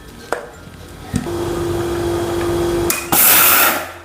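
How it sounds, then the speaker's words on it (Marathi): A mixer grinder husking sorghum runs in short pulses, a few sharp clicks and then a whirring motor hum that stops and restarts into a louder burst, close by. "मी मिक्सरमध्ये पल्स मोडवर चालू बंद करू करू याच्यातले जे कोंडा आहे साल आहे ते काढून घेणार आहे"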